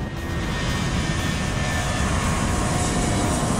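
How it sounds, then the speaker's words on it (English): A private jet engine roars steadily and loudly throughout as the plane takes off, a dense continuous rumble with no voices. "they're given clearance for takeoff."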